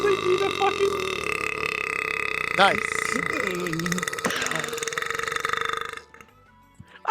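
A loud, drawn-out burp rises and warbles over a couple of seconds amid gaming audio, followed by more croaky belching sounds; a voice speaks briefly afterward.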